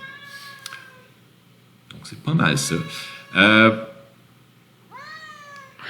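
A cat meows a few times close by, with short drawn-out cries rising and falling, heard over and between someone talking in French in a room.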